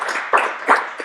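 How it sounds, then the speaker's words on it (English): A short burst of applause from a small group gathered near the Syria, Lebanon and Israel border, with a few overlapping clapping swells in about a second, close and fairly loud. "you can give a round of applause"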